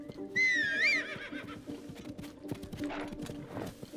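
Horse neighing in the video game Zelda: Tears of the Kingdom: one loud, wavering whinny near the start, then soft hoofbeats clip-clopping along under game ambience.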